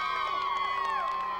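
Crowd cheering at a Grey Cup tailgate party in Edmonton, with a high school cheer team present: a steady, moderately quiet blend of overlapping shouts and whoops from many young voices.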